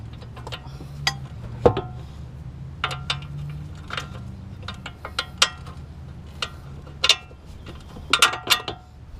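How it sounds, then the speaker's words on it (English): Bolt and nut being tightened on a shock absorber of a 2003 Mercedes CLK 500, heard as a quiet, irregular string of metallic clicks, ratchet ticks and clinks close by, with soft clatter between them. "just tightening this bolt and nut, and that's it."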